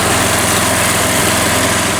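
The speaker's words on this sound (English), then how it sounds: "if you just press this gently, the mower starts running" A Mountfield M3 lawnmower engine runs steadily and loudly up close, a constant buzzing drone with no pauses and no voices.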